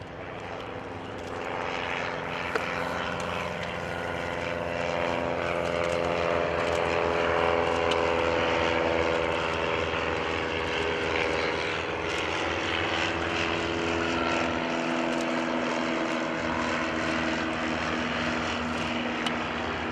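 A light propeller airplane engine, an L-Bird, drones loudly and steadily on its takeoff roll, holding a strong harmonic hum throughout with no voices.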